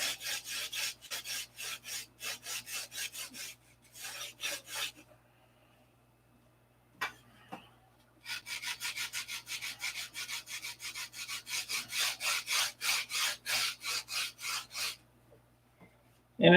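Wood is sanded by hand in quick, rhythmic back-and-forth strokes, close and crisp, coming in bursts separated by pauses, over a faint low hum.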